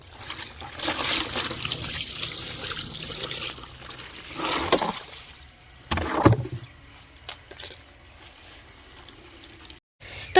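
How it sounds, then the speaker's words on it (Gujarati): Water is poured out of a tub outdoors, first as a long splashing trickle and then as a few heavier gushes and drips that trail off toward the end. "તો ગાઈસ, આમાંથી પાણી કાઢશું આપણે।"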